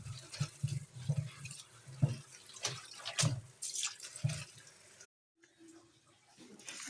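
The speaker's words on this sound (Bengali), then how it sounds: "এখন ভালোভাবে পরিষ্কার করে ধুয়ে নেব। দেখেন কীভাবে ধুতেছি দেখেন।" Chopped taro stems being washed by hand in water, with irregular splashes, drips and sloshing close by, a short silent gap near the end, then softer trickling.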